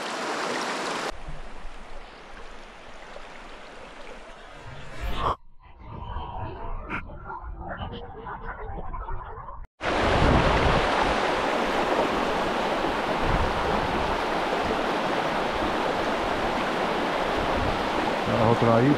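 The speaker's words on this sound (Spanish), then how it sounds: "Mirad, ahí se junta un arroyo que no sé cuál es." A small stream of flowing water, a tributary joining a river where someone is fly fishing, gives a steady broadband rush that is quieter and patchy at first, then swells abruptly into a loud, continuous close wash.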